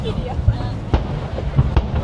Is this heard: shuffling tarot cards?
no